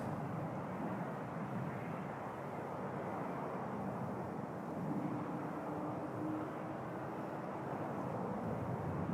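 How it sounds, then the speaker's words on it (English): An Air Transat Airbus A330-200 airliner departs Toronto Pearson as a distant, steady low jet roar with a faint whining tone emerging midway, heard from afar with no talking. "Air Transat A330 200 headed to"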